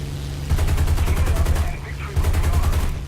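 Machine guns on a P-51 in War Thunder rattle in two long, loud bursts of rapid, evenly spaced shots, with a short pause between them and a low engine drone underneath.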